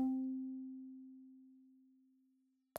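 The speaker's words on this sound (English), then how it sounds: "on layer A here, we've got this archiphonico sound" A single sustained tone from the archiphonico sampled instrument in the Diego Stocco Omnisphere library, struck once and slowly decaying over a few seconds, alone and fairly quiet, with a brief click at the end.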